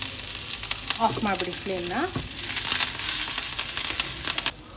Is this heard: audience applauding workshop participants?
no